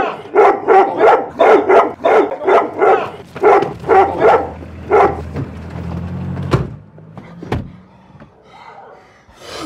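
A dog barks in a fast, loud run of about a dozen evenly spaced barks, close by, in a Georgian film scene; the barking stops, followed by a couple of sharp slams or knocks and quieter background sound.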